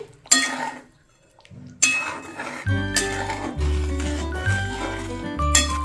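Salt being stirred into doi katla curry in a pan, heard as close scraping and clinks of a spoon against metal in short bursts with brief pauses, over a low background hum.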